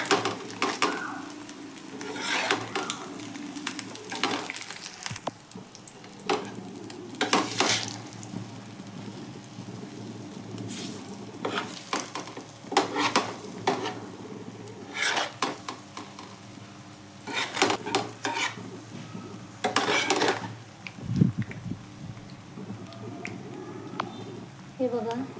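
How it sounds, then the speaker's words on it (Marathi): Egg fry masala being stirred and fried in a pan on low gas, with irregular scraping and clinking of the stirring spoon over a soft sizzle while a person talks throughout. "गॅस बारीक करायचा आहे,"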